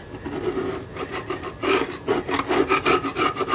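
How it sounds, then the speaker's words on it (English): Rhythmic rasping strokes as model railroad scenery is scraped down, a dozen or so quick back-and-forth rubs close up, with no talking. "Scrape away"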